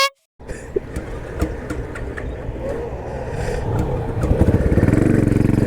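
A Royal Enfield Bullet 500 motorcycle is ridden away from a house, its engine thumping loudly and close with a rapid pulsing beat that grows heavier and louder as it accelerates, with a brief silence at the start.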